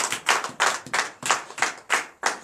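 Congregation at a Friday night deliverance and prophecy church service in Comè, Benin, clapping in acclamation: loud, close, rhythmic unison claps in a steady beat, about eight strong strikes with no talking.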